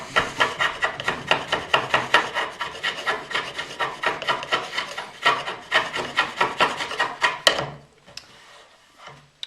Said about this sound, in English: then you can pull out your rasp and start working